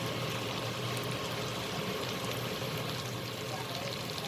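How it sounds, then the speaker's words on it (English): Brinjal and potato frying in a pan with spices over a raised flame, giving a steady, even sizzle that runs unbroken throughout at moderate loudness. "I'll fry till it gets completely cooked and all the spices get blended to it nicely."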